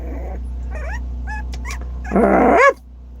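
A dog gives short yips and whimpers, ending with a louder single bark, close by over a steady low hum.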